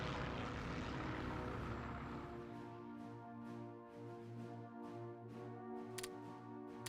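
Propeller airplane engines in the Hearts of Iron III strategy game, a steady droning hum with sustained harmonic tones, continuous and moderately loud, with no talking over it.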